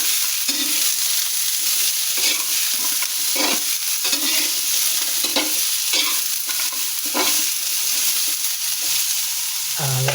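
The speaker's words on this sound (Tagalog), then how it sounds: "Atin pong haluin." Food stirred in a frying pan: a steady sizzle with repeated scraping strokes of a utensil against the pan, close and fairly loud, with no talking.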